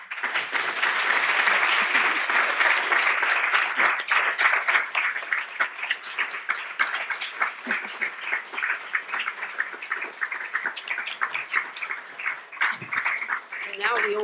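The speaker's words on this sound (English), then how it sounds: "May I have a special round of applause for Katie Webb and Barbara Hayes." An audience at an international authors' forum gathering gives a sustained round of applause lasting about fourteen seconds, dense and steady at first, then thinning slightly, with some voices mingled in.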